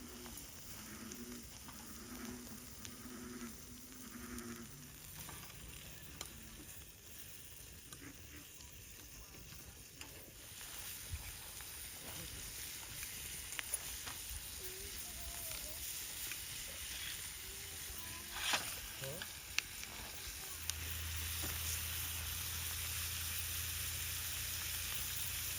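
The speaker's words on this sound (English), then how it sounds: "So I'm just gonna let that get warm. Melt this butter." Butter sizzles softly in a pan on a camp stove at a forest pond campsite in Ocala National Forest. The frying hiss is faint and steady, with light clinks and background noise, and a low hum joins near the end.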